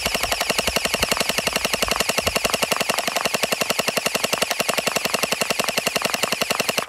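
Gel blaster firing gel balls in full-auto, a fast steady stream of sharp snapping shots with a whirring motor behind them, loud and close for the whole stretch, with no talking.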